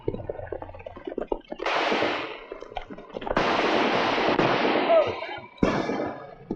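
Gunfire crackles in a shootout from a western TV series about Wyatt Earp, heard as rapid clustered shots and two long loud bursts of firing, with voices shouting around them.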